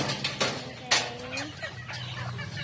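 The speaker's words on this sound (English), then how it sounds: "So many chicken." Chickens cluck on a small family farm in a quick, uneven series of close cackles and squawks, with a low murmur of background farm noise.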